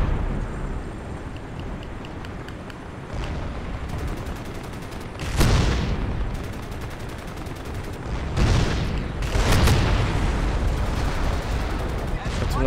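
A tank's cannon fires in the video game Crysis: loud booming blasts with long rumbling tails punctuate a steady background of in-game noise, while someone talks at points.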